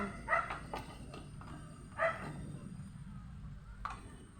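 Dogs bark in a few short, scattered bursts at a moderate distance, with low background noise between them.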